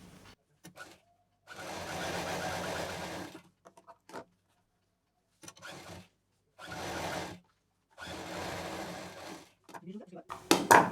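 A sewing machine stitches matching fabric piping onto the pocket edge of a cloth shopping bag, running in several bursts of a few seconds each with pauses and small handling clicks between them.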